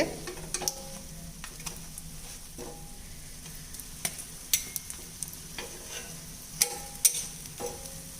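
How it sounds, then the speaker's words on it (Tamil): Parotta fries in oil in a pan with a steady sizzle, small crackles and occasional ticks and pops; close, fairly loud, no talking. "பரோட்டாவை பார்க்கும்போதே நமக்கு நல்ல முறுமுறுப்பு தெரியுங்க இப்போ இது எல்லாமே நல்லா வெந்து வந்துருச்சுங்க"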